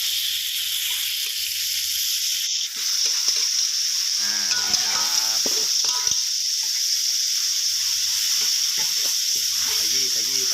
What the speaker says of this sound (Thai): ใส่พริกแดงลงไปผัดให้หอมเลยนะครับผม ครับผัดพริกแดงให้หอมนะครับ